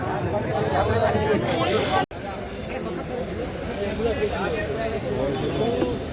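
Caged birds and pigeons at a crowded bird market at a Rath fair give soft cooing and scattered chirps, mixed into a constant hubbub of nearby voices and people talking.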